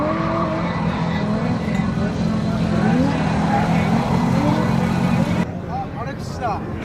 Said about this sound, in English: It's an unusual Infinity as a drift car.